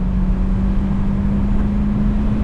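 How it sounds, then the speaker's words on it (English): A 1999 Mercedes-Benz SL500 R129 V8 drones steadily and loudly from close by as it is shifted manually on a back road, with a constant low hum and no pauses. "So maybe if we do a bit of manual shifting here"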